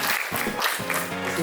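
An audience applauds panelists at a talk event, a short burst of steady, dense clapping from a nearby crowd.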